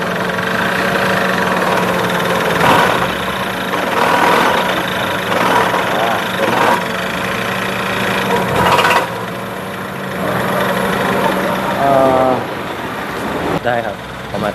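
The engine of a Honda Jazz with a transmission that jerks badly, running steadily at high revs. It is a loud, continuous hum with talking over it throughout.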